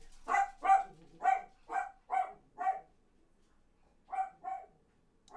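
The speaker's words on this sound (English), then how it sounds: "Noisy, noisy dogs." A few dogs bark in a loud, close run of about six sharp barks, then a short pause before two more barks, with no other sound between.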